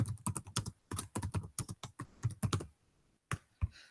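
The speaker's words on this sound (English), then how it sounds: "then you type in the answer" Fingers typing a quiz answer on a computer keyboard, a quick irregular run of close, crisp key clicks with a short pause before a couple of final taps.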